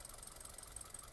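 A new Hyundai Elantra's 1.5-litre engine idles close by, giving a steady, even mechanical hum with a faint rapid ticking rattle running through it, alone with no voices.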